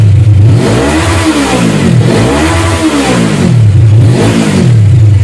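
A Suzuki Inazuma motorcycle engine with a handmade racing exhaust revs hard to 11,000 rpm several times in a row, each loud rising and falling roar close by, with a throaty exhaust note and no talking.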